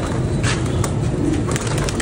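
Pigeons coo softly and repeatedly nearby over a low rumbling background, with a few faint flutters.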